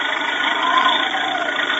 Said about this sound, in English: I know what that is. It's the sound of a tractor.